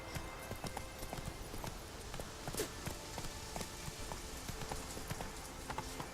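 Horse galloping in The Witcher 3: Wild Hunt, rapid rhythmic hoofbeats thudding steadily and close for several seconds amid ambient game sound.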